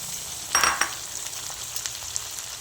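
Shrimp being sautéed in a pan with garlic and onion for chopsuey, a steady close sizzle with a brief louder burst as the food is stirred or moved, no talking.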